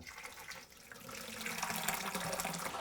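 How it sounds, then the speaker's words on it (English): Warm water runs from a tap into a bucket for brewing mash, a soft hissing gush that swells slightly louder as it fills, heard alone without talk. "I'll start filling up this bucket"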